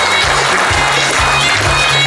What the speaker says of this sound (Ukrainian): Вітаємо переможців гучними оплесками